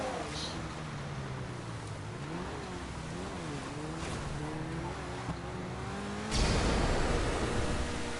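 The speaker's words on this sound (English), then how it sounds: "This car is actually really useful" A car drives in a video game, its engine droning with rising and falling revs in a steady hum, then a sudden louder rush of noise near the end.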